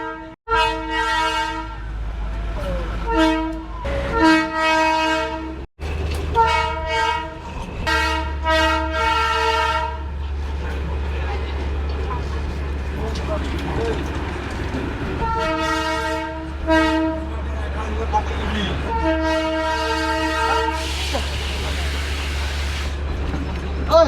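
The Darjeeling toy train runs on its hill line around Kurseong, sounding loud repeated horn blasts in several bursts over a steady rumble and clatter of the moving carriages.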